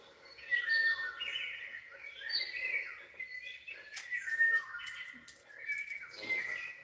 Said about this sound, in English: Those bird sounds are everything.